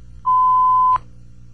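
A single clean electronic beep holds steady for under a second, then cuts off abruptly against quiet.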